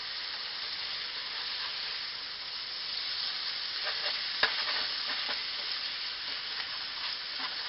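Peppers and onions fry in a hot pan for a steak dinner, giving a steady, even sizzle throughout with a single sharp utensil clack near the middle.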